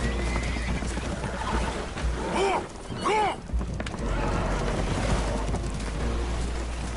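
Horses whinny in a PS5 video game aboard a holed boat taking on water, two sharp neighs rising over a steady wash of water and creaking, with a voice speaking briefly.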